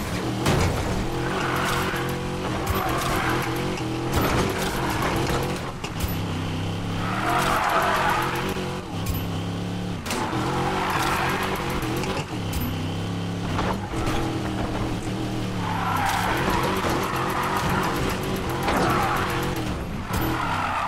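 A car drifting in the racing video game Need for Speed Payback: a revving engine drone broken by repeated bursts of tire squeal, loud and close throughout.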